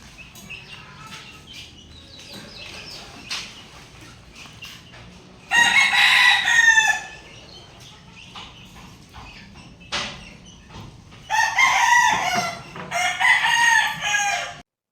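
Backyard chickens clucking softly near a hen with two chicks, broken by two loud, close rooster crows, the second one longer and repeated.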